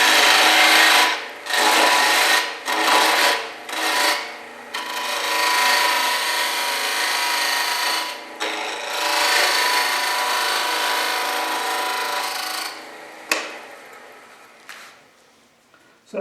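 Wood lathe spinning a Christmas ornament blank at about 1500 RPM while a tool cuts a tenon, a loud hissing rasp in long passes with short breaks between cuts, fading toward the end, no speech.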